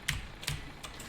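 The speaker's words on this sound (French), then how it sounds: "T'entends nos bruits de clavier et de souris" Three or four quick, crisp clicks from a mechanical keyboard and mouse during a World of Warcraft session, close and fairly faint against a quiet room.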